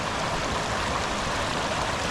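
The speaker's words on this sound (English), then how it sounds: "Thought I'd bring you this little waterfall here." A small waterfall spills over rocks beside a park trail, a steady broadband rush of water, close and even, with no voices.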